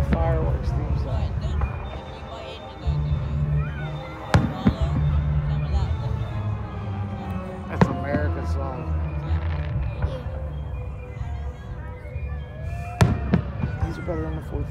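Booming firework explosions go off every few seconds at a large outdoor fireworks show, sharp cracks over a background of people talking and cheering nearby.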